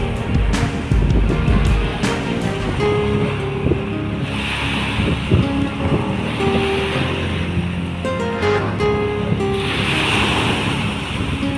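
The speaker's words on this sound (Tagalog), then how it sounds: "Lakas ng alon, oh." Strong waves surge and crash along the shore of Manila Bay, loud and close, with heavy wind buffeting the microphone and a small boat nearby.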